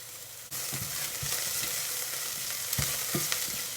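Chili peppers hit a hot pan for a pepper soup and sizzle loudly, with a sharp onset followed by steady frying crackle and a few stirring scrapes, with no talking.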